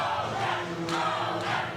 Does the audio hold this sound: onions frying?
no